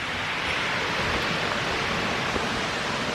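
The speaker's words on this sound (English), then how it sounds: "I found another waterfall right next to this one." Steady, full roar of a waterfall at Mount Rainier, close and loud, a continuous broadband rush of cold falling water with no breaks and no voices.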